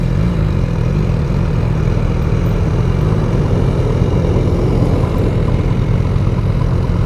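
Big 1200 GT motorcycle engine, a constant low mechanical drone mixed with road and wind noise, steady and unbroken throughout.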